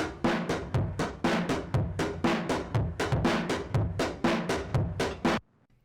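Drum-heavy beat run through Logic's Phat FX Crunched preset with RC20 layered on top, a loud, dense rhythmic loop with strong regular hits and full-band texture that stops abruptly near the end.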